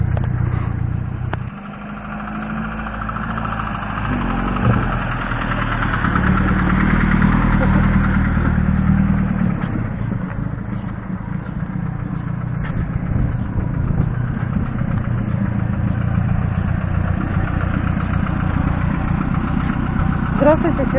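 A ZIF-77 moped engine idles with a mid-pitched, slightly clattery putter that runs steadily at close range throughout, while people talk over it.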